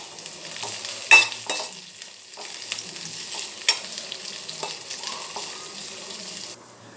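Chopped vegetables with carrot frying and being stirred in a pan, a soft continuous sizzle with scraping stir strokes and a couple of louder clinks, close by and with no talk.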